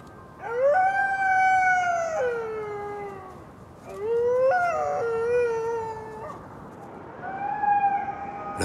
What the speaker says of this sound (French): La voix des loups est faite pour les montagnes.